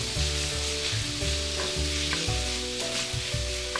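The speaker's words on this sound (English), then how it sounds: "Give it a good stir. Just keep on stirring." Ground chicken fries in a pan with a constant loud sizzle, while a spoon scrapes and stirs through it at regular intervals, close up and without talk.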